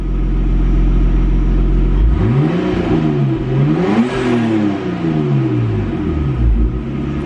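A Nissan Stagea's engine idles with a deep rumble through a custom blast pipe exhaust and adjustable muffler, then revs up and down several times in rising and falling sweeps, loud and close.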